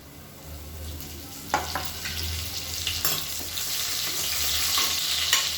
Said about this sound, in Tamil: இப்போ எண்ணெய் காஞ்சதும் கடுகு சேர்த்துக்கலாம். கொஞ்சமாக ஜீரகம் சேர்த்துக்கலாம். இதோட கருவேப்பிலை கொஞ்சம் சேர்த்துக்கலாம்.